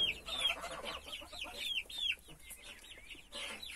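Chickens bred from a parent flock of Galan-type hens cluck and chirp in repeated short calls, fairly close and moderately loud on a farm, with no talking over them.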